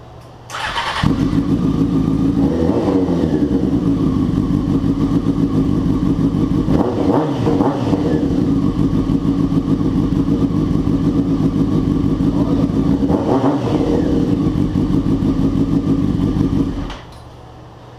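A Griffy Star motorcycle engine starts with a burst, then idles loudly and steadily close by, swelling in a few revs before cutting off near the end.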